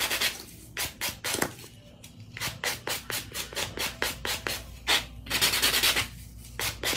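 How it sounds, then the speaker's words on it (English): A 100/100 grit buffer rubs across a fingernail in quick repeated strokes, a close, dry scratchy swishing that comes in bursts with short pauses, faster and denser toward the end. "A nice 100-100 grit, and I'm gonna just give it a good buff"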